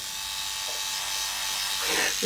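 A Philips rechargeable electric shaver runs with a steady high-pitched buzzing hum, close to the microphone, and a voice briefly murmurs near the end.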